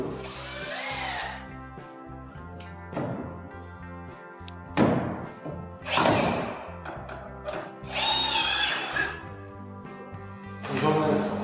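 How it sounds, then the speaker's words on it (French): A power drill drives screws to fix a batten onto the fascia board of a flat-roof garden shed. Short close whirring bursts come one after another between pauses, with light knocks. "Donc il va falloir le visser par-dessus."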